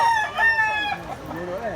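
A three-year-old green-legged rooster crows once, close and loud, with a wavering drawn-out call and faint background talk.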